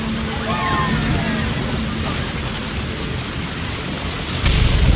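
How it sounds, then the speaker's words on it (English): A thunderstorm in the video game What Remains of Edith Finch brings dense, heavy rain, low rumbling thunder, and a louder surge at the end. A voice speaks briefly over the storm. "The thunder sounded much too close and full of angry power."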